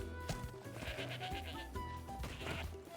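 A goat in a video game lets out wavering bleats, one after another, loud and close over game sounds.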